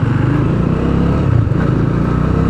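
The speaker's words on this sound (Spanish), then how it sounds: "La moto me gusta, tiene buen sonido." A Bajaj Dominar 400 single-cylinder motorcycle engine runs at a steady, loud, close rumble with a deep throbbing low end, heard alone without talk.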